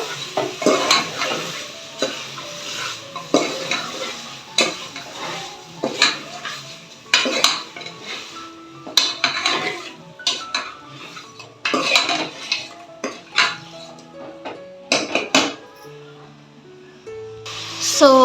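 A spoon scrapes and clanks against a pan in repeated stirring strokes through marinated chicken in oil, with a faint sizzle underneath, close and fairly loud.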